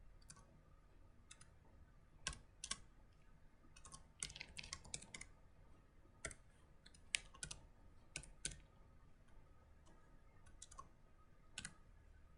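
Code being typed on a computer keyboard: quiet, irregular bursts of key clicks with short pauses between runs of keystrokes, close up and with no talking.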